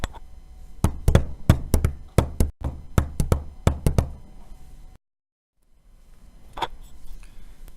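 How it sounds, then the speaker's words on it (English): Knuckles tap a galloping rhythm on a table, a quick series of sharp, close knocks in repeating groups that stop abruptly, then one faint tap after a pause. "If I tap the rhythm on the table, it sounds something like this."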